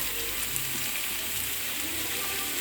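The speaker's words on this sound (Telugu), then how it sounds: "ఫస్ట్ ముందుగా మనం స్టవ్ మీద కళాయి పెట్టి నూనె వేడెక్కినాక ఇందులో ఉల్లిపాయ ముక్కలను వేసుకుని బాగా ఎర్రగా వేయించుకోవాలి." Onion pieces sizzle steadily in hot oil in a kadai on a stove, a continuous close frying hiss with no talking.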